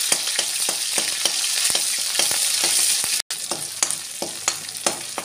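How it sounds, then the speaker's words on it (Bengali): Ground ginger and cumin paste frying in hot oil for a khichuri masala, crackling and sizzling loudly with repeated sharp spoon scrapes at an uneven rhythm, close up, broken by a very brief dropout, no speech. "তেল গরম করে এর মধ্যে বেটে রাখা আদা জিরা দিয়ে দেবো।"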